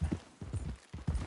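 Horse hooves clip-clop at a steady walking pace in a Western-style video game, four clear hoof beats close and moderately loud, with no talk over them.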